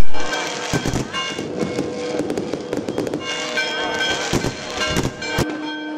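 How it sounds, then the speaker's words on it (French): Fireworks and firecrackers at a Greek Easter midnight celebration, a dense, continuous crackle of bangs and pops with sharper loud blasts scattered throughout, crowd noise beneath. "Sous les feux d'artifice, on s'embrasse, on chante, on lance des pétards"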